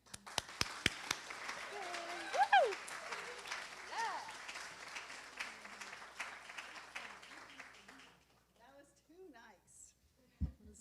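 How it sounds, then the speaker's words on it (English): An audience at a talk on data center computing costs claps to welcome a speaker; scattered sharp claps at first give way to a softer spread of applause with voices talking over it before it fades out. "Please, a round of applause for Beth Ratner"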